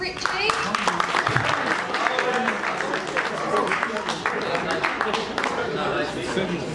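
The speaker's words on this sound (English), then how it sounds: "Another round of applause for Richie." An audience at a school sports awards ceremony claps through a sustained round of applause, with chatter and voices mixed in under the clapping.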